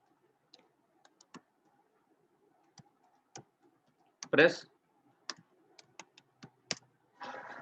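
Computer keyboard keys pressed for copy and paste shortcuts, sparse single clicks spaced irregularly with a louder cluster midway, close and quiet in an otherwise silent room.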